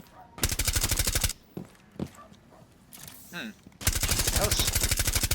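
Rapid automatic gunfire from the Rainbow Six Siege video game comes in two loud, sustained bursts, with a voice talking and scattered game sounds between them.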